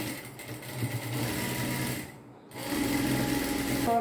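Sewing machine running steadily while stitching a kurti garment, a continuous close whirring drone that stops briefly midway and then resumes at the same even pace.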